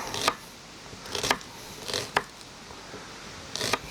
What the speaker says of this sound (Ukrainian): Нарізаємо нашу цибульку.